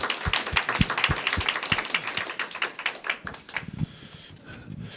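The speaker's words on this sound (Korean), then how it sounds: "우리 모두를 위해서 큰 박수로 환영해 주시기 바랍니다" Lecture audience applauding to welcome Dr. Kim Kyun-jin at a Reformation 500th anniversary lecture; a modest crowd's separate, crisp hand claps patter steadily, then thin out and fade near the end.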